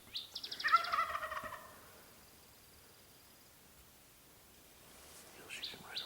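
A wild turkey gobbles once in the woods during a spring hunt, a loud rattling burst near the start, then quiet, with a fainter call at the very end.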